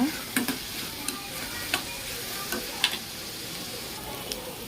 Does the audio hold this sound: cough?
no